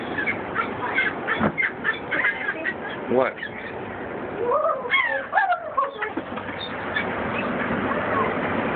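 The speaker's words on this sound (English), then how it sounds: "feeding the seagulls" Seagulls being fed call out with several sharp, rising squawks, some overlapping, at close to moderate distance, while people speak briefly and a steady background hiss continues.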